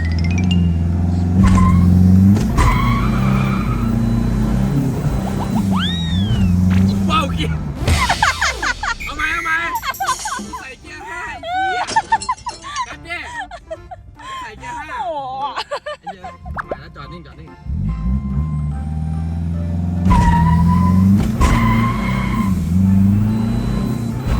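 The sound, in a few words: tuned van launching with tire squeal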